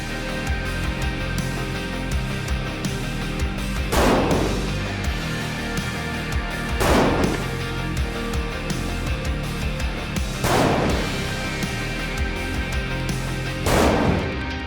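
Rifle shots fired from a factory rifle at a Horus CATS calibration target on a range, four loud, sharp reports spaced a few seconds apart over steady outdoor background noise, with no talking.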